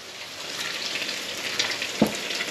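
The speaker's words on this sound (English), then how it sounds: "Look at that popping and sizzling." Flounder fillets fry in a pan, giving a steady, soft crackling sizzle with scattered small pops and one sharper pop near the end.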